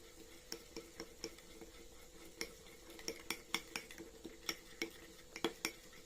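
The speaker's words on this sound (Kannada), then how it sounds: "ಇವಾಗ ನಾವು ಇದನ್ನು ನೀಟಾಗಿ ಮಿಕ್ಸ್ ಮಾಡ್ಕೊಳ್ಳೋಣ ರೀ" Clinks of a spoon stirring a skin care mixture with almond oil in a small bowl, close and fairly faint, coming as sharp irregular taps and scrapes with no talk.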